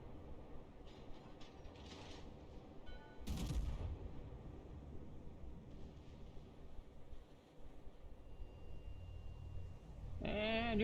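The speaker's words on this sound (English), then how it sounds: "And here comes. Obligatory exploding Nuremberg." The warship Nuremberg blows up under gunfire in a naval battle video game: low rumbling and mechanical clatter, then one heavy, booming explosion partway through, with faint rumble after it and a voice speaking briefly at the end.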